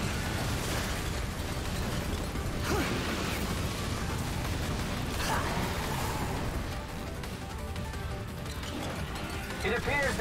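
Explosive blasts and crashing bursts in the Bayonetta 3 video game, a staged fireworks-style farewell, dense and loud throughout, with a few sharper bursts standing out over a constant roar of game effects and music.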